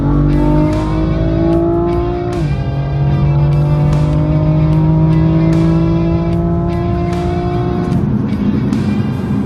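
A BMW M4 Competition driving at speed, its engine droning loud and steady with rising and falling pitch as it shifts gears, a brief dip around the shift points, heard close and continuous.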